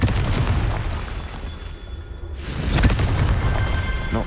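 The Confringo fire spell explodes during Hogwarts Legacy gameplay, a deep, booming blast that rumbles throughout. A second sharp burst hits midway through.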